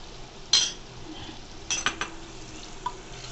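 Mutton being stirred with soy sauce in a pan: a few sharp utensil clinks and scrapes against the pan, one near the start and a cluster toward the end, over a quiet background with no talk.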